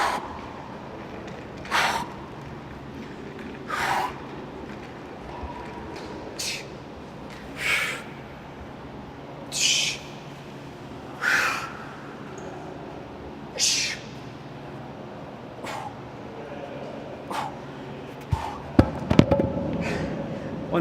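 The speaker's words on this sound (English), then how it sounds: "you can really hear that breathing" Heavy rhythmic breathing during an ab exercise, about nine forceful breaths repeating every two seconds, close and loud, with some rustling and knocks near the end.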